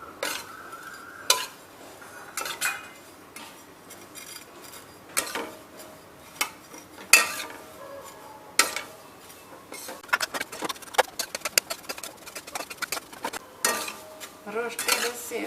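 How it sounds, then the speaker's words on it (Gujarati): Roasted vermicelli (sev) being stirred in hot ghee in a pan, heard as a long run of metallic scrapes and clinks of the spoon against the pan, irregular and close, quickening toward the end over a faint sizzle. "થોડું ઘી ગરમ થઈ જાય એટલે આપણે આ સેવ એડ કરી દઈશું."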